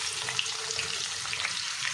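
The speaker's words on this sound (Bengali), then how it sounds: "এবার আমি একে একে এর মধ্যে ওই তেলের মধ্যেই কোচানো রসুনগুলো দিয়ে দেবো" Crushed garlic goes into hot oil left from frying chicken pieces for Indo-Chinese chilli chicken, producing a loud, close, crackling sizzle that holds steady throughout with no talking.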